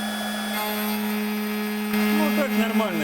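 A CNC 1419 milling machine cuts off a small part for miniature machine vise fasteners, a steady tonal motor whine that jumps louder midway as the cutter bites, with shifting pitch toward the end.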